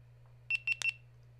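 Three quick, bright electronic power-on beeps in close succession from a nearby GoPro action camera, over a low steady hum.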